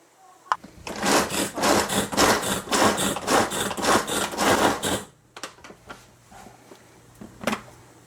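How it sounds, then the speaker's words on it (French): A knife chops food finely on a cutting board in a home kitchen, with rapid, steady strokes for about four seconds, then a few scattered taps and a short pause. "J'essaie de les hacher un petit peu plus, voir."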